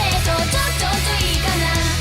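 Excerpt of a metal song mixing heavy distorted guitars and pounding drums with cute Japanese idol-style vocals, loud, dense and continuous for a couple of seconds before cutting off abruptly.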